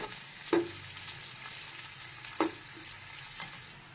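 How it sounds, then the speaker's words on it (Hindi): About 400 grams of chopped onions fry in hot oil in a pan while being browned to golden for beef nihari, giving a steady soft sizzle with a few sharp stirring clinks near the start and middle. "इनको हम गोल्डन ब्राउन करेंगे, गोल्डन फ्राई करेंगे।"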